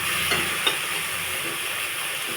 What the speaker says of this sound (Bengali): হালকা করে ভেজে নেব চিংড়িটা